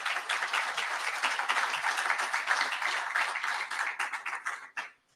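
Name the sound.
audience applause for a police sergeant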